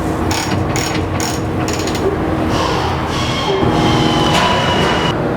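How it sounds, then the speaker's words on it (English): A ratchet on a belt puller is worked by hand to raise and lower the conveyor, giving loud, rapid runs of metallic clicks in bursts, close to the microphone over a constant machine hum. "As you may see with the ratchet system, it's pretty easy, even using one hand, to bring the conveyor up or to bring the conveyor down."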